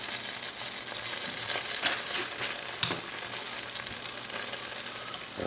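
Garlic fries in melted butter in a pan for house fried rice, a steady close sizzle with occasional louder crackles from stirring, and no talking.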